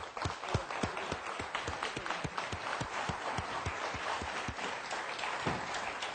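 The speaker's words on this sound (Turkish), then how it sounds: "Profesör Doktor Onur Erol hocamı davet ediyorum alkışlarınıza" Audience applauding as a guest professor is welcomed onto a talk show stage, rhythmic fairly quiet clapping with distinct individual claps, steady throughout.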